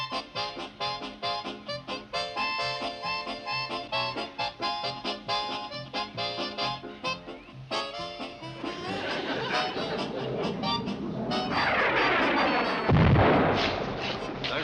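A deep booming rumble, like a distant sonic boom, swells and lingers toward the end, following a stretch of busy music.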